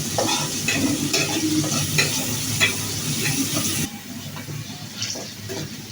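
Onion and garlic frying in a generous amount of oil in a pot for a bean (shim) stir-fry, a loud continuous sizzle with stirring scrapes that drops noticeably quieter partway through, no voices.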